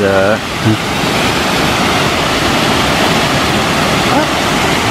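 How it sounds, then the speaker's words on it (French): A small mountain waterfall near Lac de Flaine roars as a loud, steady rush close by, with a voice briefly speaking at the start. "La sacrée mini cascade."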